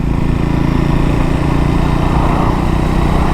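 A Triumph Scrambler 400 X motorcycle engine drones steadily while riding onto a motorway, a constant close hum with wind noise and no speech.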